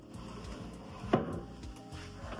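A storage drawer in a hotel room is pushed shut, making a single short wooden knock midway through. A soft room hum carries on around it.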